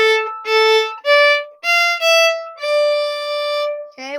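Violin plays measures 17 and 18 of a blues lesson tune, a few sustained bowed notes separated by short breaks, close and bright with no talking over it.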